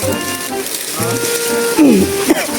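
Rain falls outdoors as a steady, close hiss that runs throughout, mixed with voices and brief tonal sounds.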